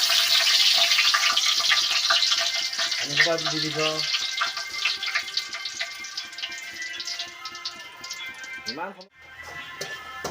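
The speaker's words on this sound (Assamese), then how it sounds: "ये तेल में कुछ मिक्स होगा शायद, इसलिए ऐसा साउंड करता है।" Oil crackles and sizzles while food fries in it, a loud, dense hiss that runs continuously, broken by a short tonal hum near the start and a brief dip near the end, with people talking over it.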